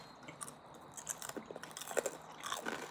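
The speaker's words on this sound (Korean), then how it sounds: "그럼 똥집을 먼저 먹어보겠습니다" Chicken gizzard being bitten and chewed close up, with crisp crunching bites and soft mastication sounds repeating over a few seconds, no talking.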